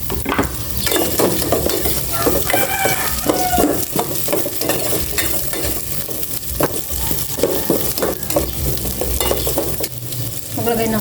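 Garlic and onion sauté in a pan with a steady, loud sizzle and frying crackle, broken by repeated scraping stirs of a utensil across the pan, with no voices.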